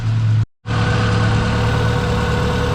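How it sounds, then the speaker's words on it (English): A car engine idles with a steady low rumble, cutting out abruptly for a split second before resuming its even hum, close and fairly loud. "we're gonna let it run for a little bit"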